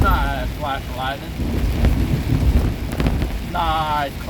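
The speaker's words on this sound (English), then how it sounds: "Nice clap of thunder." Thunder rumbles through a heavy rainstorm as heard from inside a moving car near Evansville, a low rolling boom under steady rain, with a voice talking briefly at the start and end.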